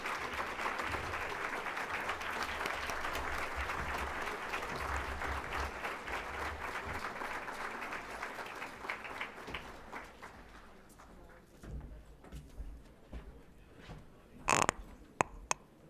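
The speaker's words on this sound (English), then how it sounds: "Another round of applause for Dr. David Caban." A community breakfast audience applauds steadily for a long stretch, a dense wash of clapping that thins out into scattered claps toward the end.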